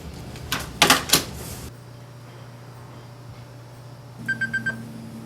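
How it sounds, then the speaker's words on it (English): A telephone being dialed to call the next person, a quick burst of clicking key presses followed by a short run of four evenly spaced dial tones, with a steady low hum throughout. "I just got off the phone with Don"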